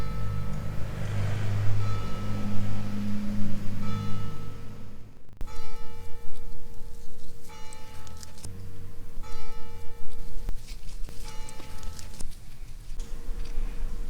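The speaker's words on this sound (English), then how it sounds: "That's St. Martin's church bell tolling at midday, and it is just absolutely beautiful." St. Martin's church bell tolls at midday, repeated ringing, sustained strikes that overlap and decay, sounding somewhat distant over a low background rumble.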